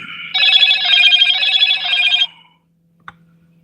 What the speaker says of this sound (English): Another spam call.